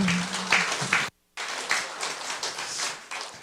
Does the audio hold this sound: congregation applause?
yes